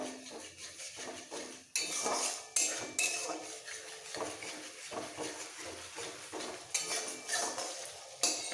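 A spoon scrapes and clatters against a pan while a vegetarian bean curry is stirred, giving an uneven run of metallic knocks over a faint sizzle, close by with no voices.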